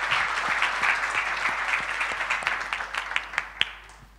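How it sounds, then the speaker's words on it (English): A conference audience applauding, dense steady clapping that thins into scattered individual claps and fades out near the end. "we can applaud once again"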